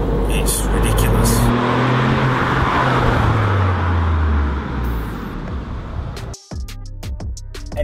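A Ford Fiesta Mk8 1.0 EcoBoost ST-Line with a Cobra sport exhaust revs and roars up close, its exhaust note rising and falling, then cuts off sharply before clicks and a brief voice.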